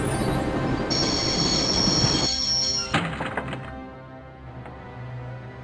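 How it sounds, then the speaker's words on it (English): A train in the Broken Sword video game rumbles and clatters with a high wheel squeal, then a heavy thunk as it brakes and the sound thins to a quieter idle hum. "always wanted to stop the train."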